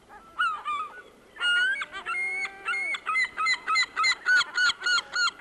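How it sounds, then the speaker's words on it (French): Young yellow-legged gulls, grisards, calling on Lake Méziaa: a close, loud run of harsh, honking cries, first a few scattered calls, then a rapid, evenly spaced series of short repeated notes. "Les jeunes leucophées, qu'on appelle aussi grisards, sont très présents au lac."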